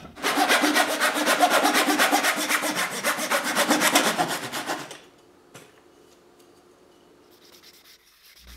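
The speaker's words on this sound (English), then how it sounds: "I'll cut the bottom end of the support at a 45-degree angle" A hand saw cuts the bottom end of an oak support at a 45-degree angle in fast, steady back-and-forth strokes for about five seconds, then stops, leaving near silence with a faint knock.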